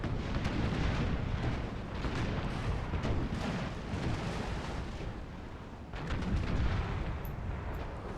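Ship cannons in an Empire: Total War naval battle fire in a continuous rumbling barrage, heavy booms rolling over one another for several seconds with a brief lull before another loud volley.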